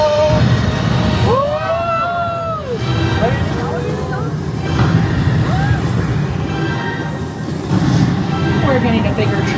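Universal Studios Hollywood studio tour tram rolls along with a steady loud rumble, while high squealing tones rise and fall over it and people talk aboard throughout.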